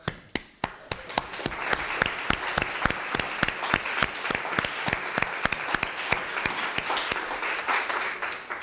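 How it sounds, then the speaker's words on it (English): A lecture audience at a talk by Stanislaw Grygiel applauds: a few separate sharp claps open, then quickly swell into sustained, crisp crowd clapping that holds at a fairly even level to the end. "this applause is provoked by me"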